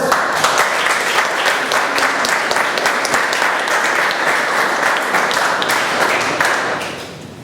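A room of Toastmasters club members in Bombay clapping in sustained, dense applause, loud and close, holding steady for several seconds before tapering off near the end.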